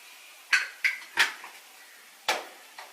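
Metal utensil scraping and knocking against a pan while spices are stirred into Maggi noodles with vegetables, five sharp clanks spaced irregularly, close and fairly loud with no voices.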